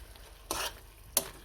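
Menudo with tomato, soy sauce and oyster sauce is stirred in a pan, two short scraping swishes of a spoon against the pan over a faint background, close and brief.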